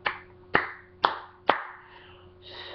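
A few sharp, separate claps ring out at a steady pace, close and fairly loud, followed by a brief softer patter.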